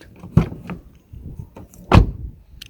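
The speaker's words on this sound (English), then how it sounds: "So now all the doors are unlocked" Nissan door locks unlocking by key fob, two distinct mechanical clunks about one and a half seconds apart, close and fairly loud, with softer clicks and handling noises between.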